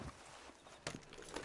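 Horse hooves in the Red Dead Redemption 2 Online video game, a few soft clip-clop steps on the ground as the horse arrives, fairly quiet over a steady game ambience.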